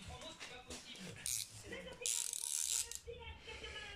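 A ratchet tightens bolts during a timing belt and water pump replacement on a Citroën C3 1.4 HDi engine, giving quick metallic clicking runs in two bursts, close and fairly loud, with some talk around them.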